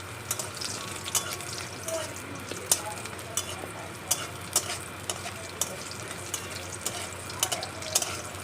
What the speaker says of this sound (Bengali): এই বড়িটা একটু ভেজে তুলে রাখলাম